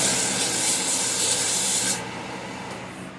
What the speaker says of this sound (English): I'll sand it up a little bit here quick, and we should be good to go